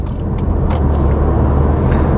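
A car pulling away and accelerating toward a slip road during an advanced driving drill, heard as a steady, loud low engine rumble with road noise from inside the cabin, continuous and without talk.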